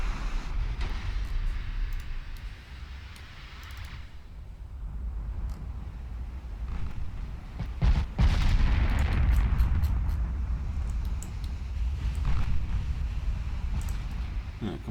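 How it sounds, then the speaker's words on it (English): Secondary naval guns open fire in the Ultimate Admiral Dreadnoughts warship game, a few booming reports, the heaviest burst near the middle, over a constant rumbling battle bed. "A couple of secondary guns opening up."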